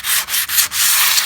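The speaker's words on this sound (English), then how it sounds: "Just let the sanding block do the job." Close, loud sanding by hand: a sanding block rasps over pallet wood shelves in quick repeated strokes with brief pauses between them.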